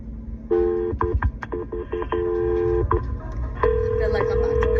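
Telephone keypad dialing tones beep in short bursts and longer held tones over a low background hum, with a steady tone near the end, suggesting a call being placed and ringing.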